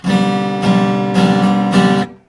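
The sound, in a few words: out-of-tune guitar strumming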